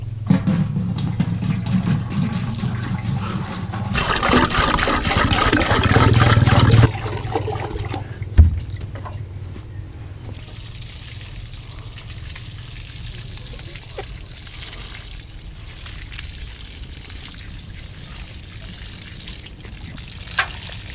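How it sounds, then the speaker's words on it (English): Seedlings planted in old tires in an African village are watered by hand after two dry days. A loud splashing pour runs for a few seconds near the start, followed by quieter trickling and a faint outdoor background. "let's go and water them, because for today and yesterday it has not rained"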